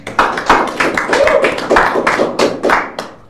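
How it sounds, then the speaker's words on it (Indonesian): Hand clapping from a small audience on a podcast set comes as a series of sharp, uneven claps and taps close to the microphone, loud and alone with no talk. "Beri tepuk tangan dulu ya"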